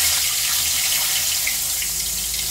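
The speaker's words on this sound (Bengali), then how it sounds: "তেলটা গরম আছে, এই তেলের মধ্যে প্রথমে দিয়ে দেবো হচ্ছে তেজপাতা" Bay leaves dropped into hot oil give a steady, bright hiss of sizzling, even and close, with no talking.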